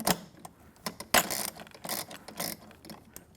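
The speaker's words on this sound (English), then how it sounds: "I'm going to press it all the way up there and tighten the bolt" A ratchet tool tightens a bolt on a wooden-post reformer frame, giving a sharp, irregular series of close mechanical clicks and rattling bursts, loud and without speech.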